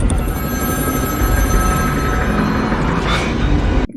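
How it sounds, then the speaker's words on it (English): A telephone rings in a scene from the 2002 movie Phone Booth, a loud, steady bell tone that continues for several seconds and then cuts off abruptly. "But a ringing phone has to be answered, doesn't it?"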